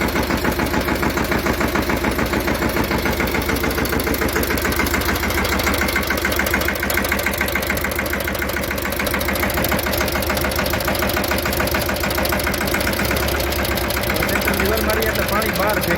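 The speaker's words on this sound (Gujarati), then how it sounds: "મહિન્દ્રા યુવરાજ 215 ટ્રેક્ટર મિની. આ ટ્રેક્ટરની અંદર એક પ્રોબ્લેમ છે જે હું બતાવું તમને. ટ્રેક્ટર બિલકુલ ચાલુ છે." A Mahindra Yuvraj 215 mini tractor with a gas kit runs with a steady, loud, rapidly pulsing engine beat that continues unbroken for the whole stretch.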